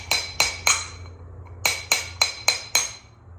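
A metal socket is hammered against a front-end rotor during a front-end rebuild, giving sharp ringing clinks: three quick strikes, a pause, then four more evenly spaced, close and loud.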